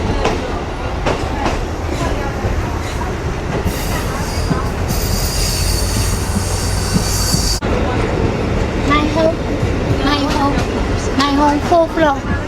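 A small train runs through Yangon, Myanmar, with steady rumbling, rattling wheels and clattering carriages, plus bursts of screeching wheel squeal, while people talk nearby throughout.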